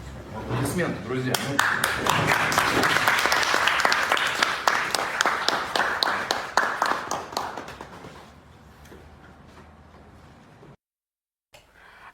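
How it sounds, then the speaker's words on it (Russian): Audience applause at an Abkhazian news event fills the first eight seconds, loud and dense with sharp individual claps, then thins and fades before a short silence. "Аплодисменты, друзья."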